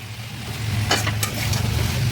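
Chicken kasha sautéing in a pan gives a steady low sizzle throughout, with a few brief scraping stirs of a utensil near the middle.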